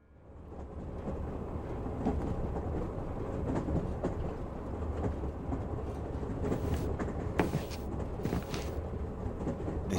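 A train runs in the Shadow Hearts 2 video game, with a steady low rumble and rattle of rolling carriages throughout, plus a few sharp creaks and clanks near the end. No talk.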